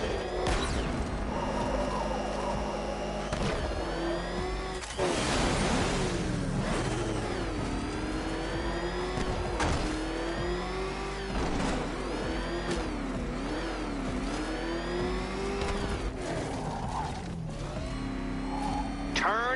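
A car engine in the Batman game Arkham Knight, revving and whining steadily with rising and falling pitch sweeps, loud and continuous, with mechanical clatter and a crash-like burst midway.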